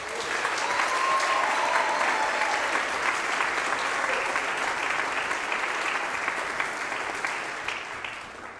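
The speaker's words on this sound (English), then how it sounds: "let's give a round of applause to our first speaker" An audience applauds the first speaker at a student talk event, a sustained wash of many clapping hands that holds steady and then tapers off near the end, with no voices over it.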